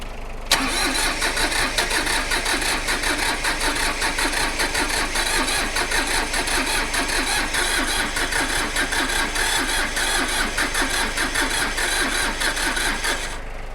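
Close and loud, an Iseki tractor engine cranks on the starter motor, a fast, even, rhythmic churning that holds for over thirteen seconds without catching.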